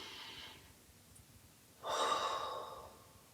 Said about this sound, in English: Now that big exaggerated breath.